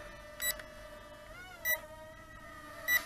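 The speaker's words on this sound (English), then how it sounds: "we do have a headless mode beep going on" A TIANQU VISUO XS809 mini foldable RC drone in headless mode sounds three short electronic beeps, about a second apart, over its steady, high propeller whine.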